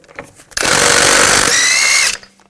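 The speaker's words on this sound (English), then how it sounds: "Now we're going to remove the wheel, use a 19mm socket." A power tool fitted with a 19mm socket spins up loudly and runs steadily for about a second and a half, loosening a lug bolt on the rear wheel of a 2000-2006 BMW X5, then cuts off abruptly.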